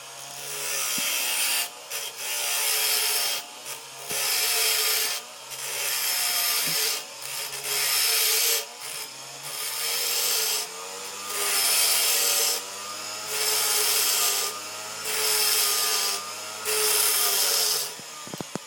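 Metal is sawn or filed by hand to shape a short hook lock pick, a rhythmic rasping in repeated back-and-forth strokes, close and steady, with no talking.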